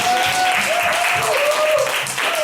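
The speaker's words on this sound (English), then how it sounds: "So let's clap our hands for Lady Unbreakable." An audience at a panel session applauds in a steady, dense wash of clapping, sustained and fairly loud throughout.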